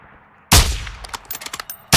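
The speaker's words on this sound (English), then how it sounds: "You are taking effective fire." Gunfire in a tactical squad shooter video game: a loud burst of shots opens after a quiet start, trailing into scattered fainter cracks and a final sharp blast at the end.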